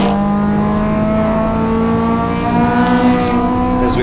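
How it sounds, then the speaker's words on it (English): A Triumph TR8 race car at a Winton race meeting accelerates hard past, its engine note loud and close, climbing in pitch with a strong tonal whine before pulling away. "as you see the TR8 there just leaving screen"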